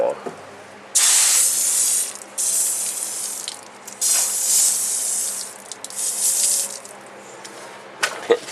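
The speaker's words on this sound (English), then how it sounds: "I'm going to spritz a little water on that" Several bursts from a handheld spray bottle misting water onto an avocado plant on flat concrete outdoors, each hissing spritz lasting about a second with brief pauses between, close and fairly loud.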